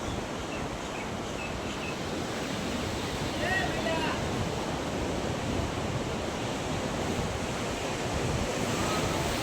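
Continuous roaring surf with wind buffeting the microphone, waves churning close by at a sea cave on the coast; a faint voice briefly surfaces in the middle.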